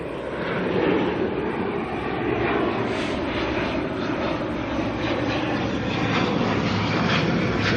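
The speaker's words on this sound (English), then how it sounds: "This ATR is coming in from Blenheim" An ATR turboprop airliner arriving at Auckland Airport produces a continuous broad engine roar with a steady propeller drone, moderately distant and holding level throughout, with no talk.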